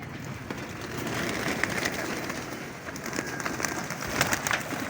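A flock of pigeons coos in soft overlapping murmurs, with wings fluttering now and then, over a steady outdoor wash of noise.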